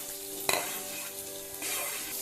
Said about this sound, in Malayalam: മുളക് പൊടി മൂത്ത് കഴിഞ്ഞാൽ കഴുകി വെച്ചിരിക്കുന്ന മാന്തൽ ചേർത്ത് യോജിപ്പിക്കാം